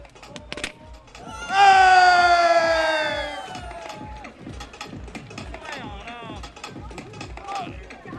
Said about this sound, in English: big round of applause for your women top 5